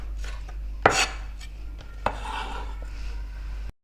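A knife chops the white part of a leek or spring onion on a cutting board, one sharp strike standing out early and a second later, with faint scraping between and no talking.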